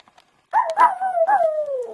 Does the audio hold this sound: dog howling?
yes